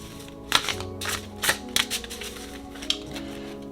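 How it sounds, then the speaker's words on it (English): A deck of Star Tarot cards is shuffled by hand in a few quick riffling bursts and sharp snaps, close and crisp, over a soft musical background. "I'm gonna shuffle first."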